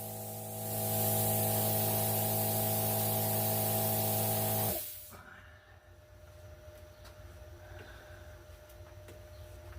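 A 220v plasma cutter with an internal compressor cuts 1/8 inch steel, giving a loud, steady hissing roar with a strong electrical hum for about five seconds before it stops abruptly, leaving faint room noise and small clicks.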